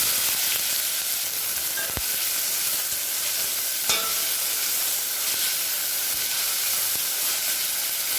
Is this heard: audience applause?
no